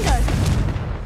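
A Confringo spell explosion in the video game Hogwarts Legacy bursts with a loud boom. A brief whooshing swirl follows, then a rumbling tail that slowly fades.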